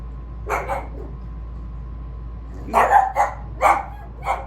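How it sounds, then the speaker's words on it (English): A dog barks nearby, a short pair of barks, then a pause, then several more sharp barks in a quick series. "Why are you down here barking like that?"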